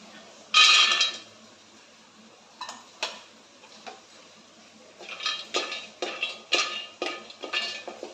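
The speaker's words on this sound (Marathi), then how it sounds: "आता मी हे एका डिशमध्ये काढून घेते" Roasted peanuts are scooped from a pan into a dish, giving a burst of rattling followed by repeated scraping clinks of a metal spoon against cookware, near and intermittent.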